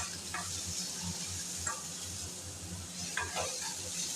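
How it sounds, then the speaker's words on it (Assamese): Chopped tomatoes fry with onion, and garlic is added, in a pan, making a steady, soft sizzle with a few scraping stirs of a spoon breaking in at intervals. "টমেটোখিনিও মই ভাজি ল'ম ধুনীয়াকৈ পিঁয়াজৰ লগত"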